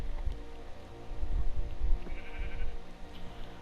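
Sheep bleat in the Minecraft video game, a couple of faint calls over a low ambient game background, with no talk.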